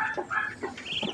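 Ducklings from a second batch on a farm give several short, high peeping calls in quick succession, close by and fairly quiet, with no one talking.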